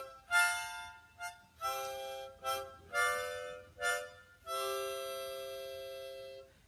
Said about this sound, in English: This is called a harmonica,